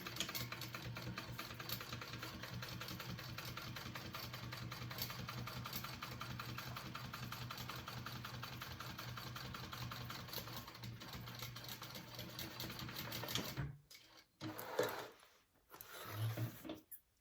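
Sewing machine stitching a second line on a crossbody bag, a steady, faint, continuous motor whir that runs for a long stretch and then breaks into a few short, uneven bursts near the end.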